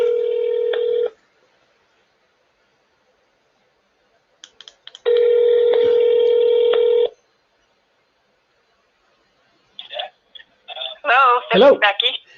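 A phone call rings on a handset or speakerphone: two long electronic ringback tones separated by silence, fairly loud and close, followed by brief voices as the call is answered.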